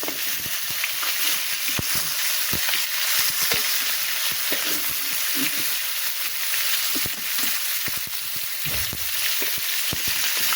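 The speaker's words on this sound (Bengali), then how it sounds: "আলু আর বেগুন ভাজি করব।" Potato and eggplant pieces frying in hot oil in a pan, a dense, continuous crackling sizzle with small pops and occasional stirring clatter, close and steady throughout, no voices.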